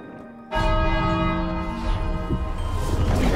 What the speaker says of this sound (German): Jetzt lass ich mal die Glocken läuten.